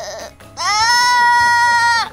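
A voice imitates a goat with one sustained, wavering nasal bleat, loud and close, just after a brief bit of speech.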